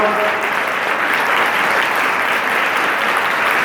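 Loud, dense applause from an audience at a college alumni and parents meet, continuous and even clapping with no gaps.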